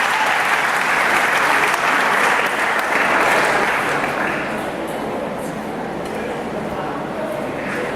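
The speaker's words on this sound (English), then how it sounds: "You think you're clapping for him?" An audience at a black belt martial arts workout claps steadily and loudly for several seconds, then the applause gradually thins and tapers toward the end.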